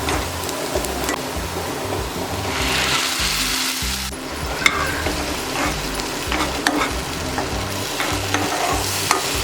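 Tomato puree cooking into golden-fried onions in a pan for a Maharashtrian veg thali, a loud continuous sizzle with rough scraping and stirring throughout, with no voices.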